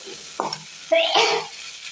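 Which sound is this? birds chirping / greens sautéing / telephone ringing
greens sautéing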